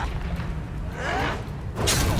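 A fiery Confringo spell explosion in Hogwarts Legacy bursts with a rushing whoosh and a sharp blast toward the end, over busy battle sounds, with a voice present in the scene.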